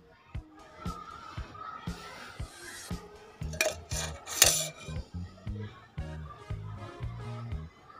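Rhythmic scraping and clanking of a spoon stirring masala into fried chicken in a pot, repeated strokes at close range, fairly quiet and alone.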